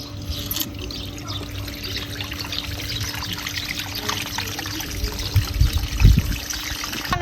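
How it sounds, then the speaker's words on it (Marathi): Water steadily trickling and draining off freshly washed turmeric, a continuous close splashing pour that swells louder near the end. "आता ह्याच्यातलं आपण पाणी निथळून घ्यायचं"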